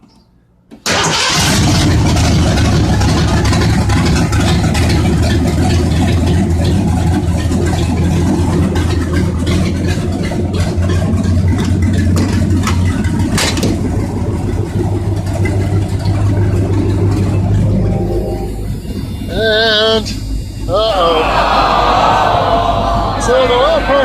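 A Ford 351 Windsor V8 swapped into a Granada, with very low oil pressure, cranks and catches, then runs steadily with a deep, loud idle and some revving, continuing throughout.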